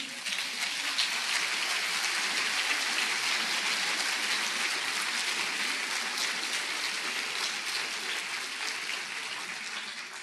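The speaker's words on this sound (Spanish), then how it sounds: "¿Por qué no le da un aplauso al Señor?" A church congregation gives a long, sustained round of applause during a sermon, a dense, even wash of clapping from many people that stays loud and steady throughout, sounding almost like heavy rain.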